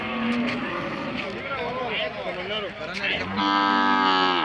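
Murmuring voices, then a Hallikar cow gives a long, loud, drawn-out moo close by.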